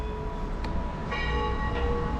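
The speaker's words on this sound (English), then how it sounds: "what a beautiful sound there of the bells of the church, next to the sound of traffic, cars in the high street" Church bells in the high street of Lewes, East Sussex, ringing as faint, steady tones over a constant rumble of passing car traffic, with a brighter strike of the bell near the middle.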